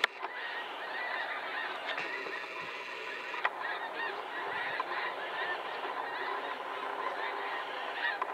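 A flock of Canada geese flying south, honking repeatedly in the open air, overlapping calls at moderate distance with steady background ambience.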